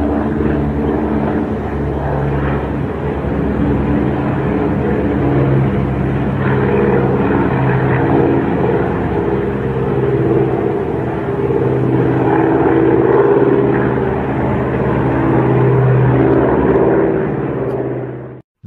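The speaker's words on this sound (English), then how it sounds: "This plane drops water." A propeller plane dropping water, its steady engine drone loud and continuous throughout, with no speech.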